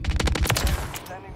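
Rapid SMG gunfire from a Modern Warfare 3 Search and Destroy match, loud bursts of close automatic shots packed tightly together for about a second before stopping abruptly.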